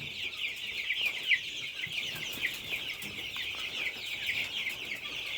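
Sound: Lohmann Brown hen chick clucking

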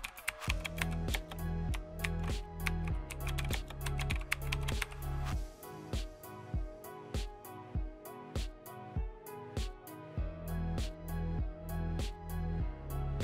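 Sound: typing a URL on a computer keyboard

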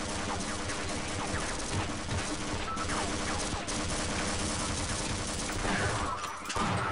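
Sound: gunfire in Half-Life 2 Episode Two video game

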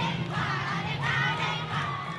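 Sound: crowd of senior students shouting at freshmen during hazing

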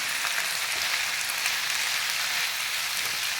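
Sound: sautéing paneer gravy with kasuri methi in a pan

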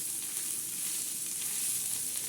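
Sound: prawns frying in a pan

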